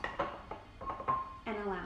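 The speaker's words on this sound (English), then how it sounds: "screw on the lid" A few short clinks and scrapes of a metal lid being twisted onto a flask, followed by a brief ringing tone.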